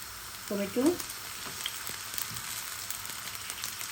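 Onions and green chilies frying for pasta in a pan give off a soft, steady sizzle, with a brief louder clatter of stirring near the start and a quiet, even hiss after.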